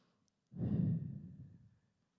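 One long, soft group exhale as an audience at a commencement ceremony takes a deep breath together, a breathy whoosh rising quickly and fading over about a second and a half in a quiet room.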